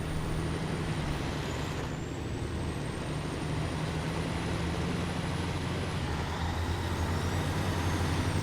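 A Western Star truck engine in SnowRunner drones at a steady, low, constant level, with a faint high whine on top and no voices.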